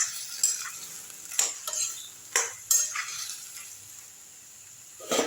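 Onion and tomato being sautéed dry in a pan with no oil for a thokku, giving soft scraping stirs and several sharp clinks of a utensil against the pan over a faint sizzle.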